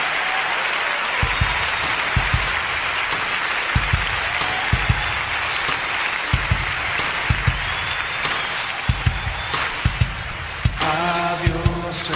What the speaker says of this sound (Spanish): ¿Por qué no le dan un aplauso fuerte al Señor?